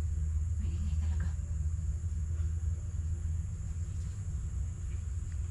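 A passing truck rolls by outdoors, producing a low, continuous engine rumble at a fairly distant, subdued level, steady for several seconds with faint background noise and no clear voices.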